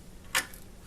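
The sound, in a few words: laptop memory module clicking into its slot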